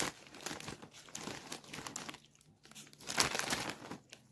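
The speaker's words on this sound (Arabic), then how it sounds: "هنحطها في الكيس بتاعها تاني ونخليها على جنب كده" A plastic snack bag crinkles and rustles as gift items are put back inside, the crackling bursts loud and close with brief quieter pauses, no talking.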